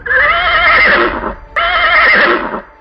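Two loud, close horse neighs in succession, each a long wavering whinny of just over a second, the second following right after the first ends.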